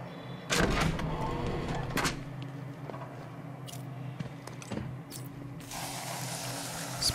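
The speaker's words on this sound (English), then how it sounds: "Spray our happy Batman gel." Explosive gel sprayed in the video game Batman: Arkham City, heard as short hissing spray bursts and mechanical clicks, with a longer hiss near the end, all fairly quiet with no talk.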